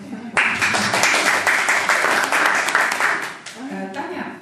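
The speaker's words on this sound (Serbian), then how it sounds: "Za Ljubo jedan aplauz, molim." Audience applause at an evening poetry reading in Banja Luka, a dense burst of many hands clapping that swells at once, holds steady for about three seconds and then thins out, with a voice starting to speak at the end.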